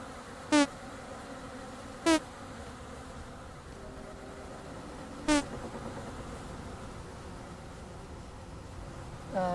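Bees buzz in the game Vintage Story as a low, steady hum under a continuous noisy bed, with a few short bright tonal blips at intervals.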